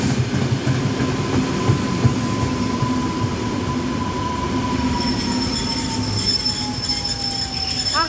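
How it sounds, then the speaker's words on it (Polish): R60 train near Wołomin, Poland, with its wheels squealing in a long, steady high-pitched tone that slowly falls in pitch, over continuous loud rumbling and rolling rail noise. "Ach, piękny ten skrzyk od kół."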